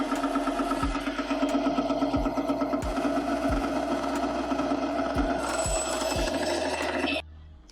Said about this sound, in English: Go ahead and use our bandsaw,